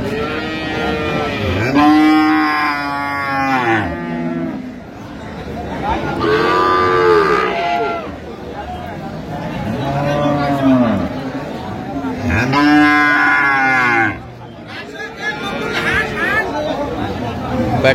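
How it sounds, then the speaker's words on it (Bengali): Dairy cows and calves of Sahiwal and Sindhi breeds moo repeatedly at a busy cattle market at Ambari haat in Bangladesh, with loud, long calls recurring every few seconds over crowd chatter and nearby speech. "গাভী বাছুর আমরা দেখছিলাম এখানে"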